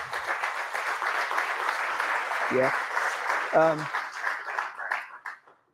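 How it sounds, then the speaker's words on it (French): An audience applauding at a conference talk in Nantes: a steady wash of clapping that fades out at the end, with a couple of brief spoken voice sounds over it. "J'aimerais qu'on les applaudisse juste."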